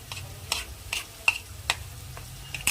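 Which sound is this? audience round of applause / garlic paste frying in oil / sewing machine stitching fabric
garlic paste frying in oil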